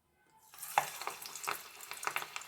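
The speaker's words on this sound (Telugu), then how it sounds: "సో ఆయిల్ హీట్ ఎక్కాక మనం 1 by 1 డ్రాప్ చేసేసుకొని" Aloo tikki dropped into hot oil for deep frying, a brief rising sizzle with crackling pops, close and fairly quiet.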